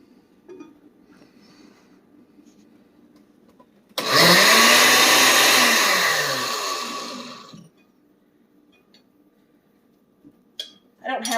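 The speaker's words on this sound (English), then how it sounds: "then you're going to blend it up until it's a nice puree" A blender purees roasted pumpkin in one loud, close run of about three and a half seconds, its whirring pitch shifting as the pulp thins, with quiet kitchen noise before and after.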